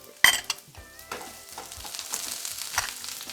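Onions drop into hot frying oil for a canned tomato sauce, with a sharp clatter at the start and then a soft, crackling sizzle with light stirring.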